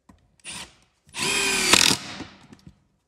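A power drill drives screws into wood during garage carpentry, with a short burst followed by a longer steady whirring run that ends abruptly. There are a few faint knocks afterward, and no voices.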